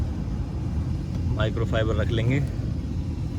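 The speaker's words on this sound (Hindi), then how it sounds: "तो यहाँ से करेंगे फ़ैन ऑन और फैन का फ्लो करेंगे फुल" A car's AC fan blows at full flow, a steady broadband whoosh that continues throughout while someone speaks briefly over it.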